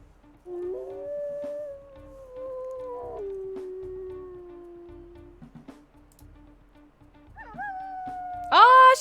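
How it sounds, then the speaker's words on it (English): Wolf in the WolfQuest video game giving long, clear, rising and falling howls, close and fairly loud, ending in a brighter, sharper howl burst. "Oh, she has one of my favorite howls."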